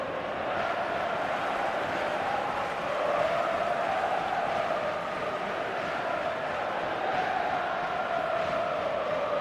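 A steady stadium crowd roars and murmurs continuously in an eFootball match, a dense wash of many voices at an even level throughout, with no single voice standing out.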